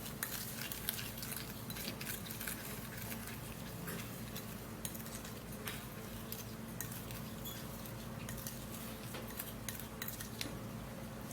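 A homemade skincare mixture is stirred in a bowl, giving a faint, continuous scrape and light clinking of a utensil against the container in a quiet room.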